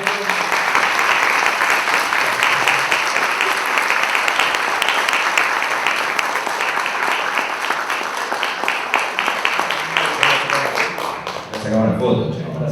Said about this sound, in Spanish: un agradecimiento, un aplauso.